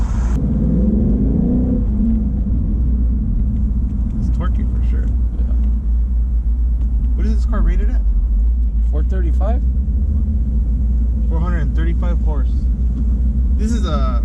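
A 2017 Mustang GT with the 5.0 Coyote V8 and Borla exhaust, heard from inside the car as a loud, constant low engine rumble, with people talking over it in several stretches.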